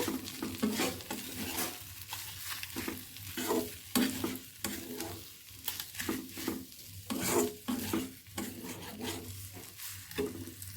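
Food sizzles in a pan while a utensil stirs it in repeated scraping strokes, the sizzle steady and moderately quiet, with no talking.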